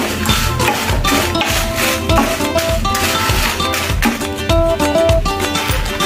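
A metal spoon stirs garlic and dried red chillies frying in a pan, with steady rapid clinks and scrapes against the pan over a soft sizzle, close and busy throughout.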